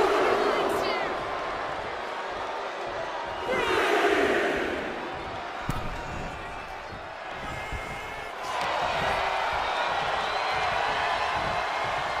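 A wrestling arena crowd in the video game WWE 2K24 roars and cheers in swelling waves, loud and continuous, with surges around a sharp slam.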